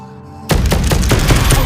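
Rapid gunfire from a weapon in the DeadHook VR game on Meta Quest 3 bursts in after a quiet half second, loud, dense shots continuing steadily to the end with no talking.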